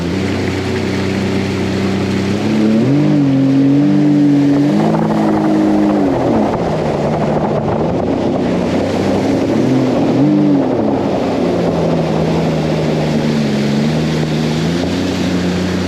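A Sea-Doo FishPro 170 personal watercraft accelerates at full speed in sport mode, its engine loud and close, pitch rising and dipping through shifting revs, with rushing water and wind noise throughout.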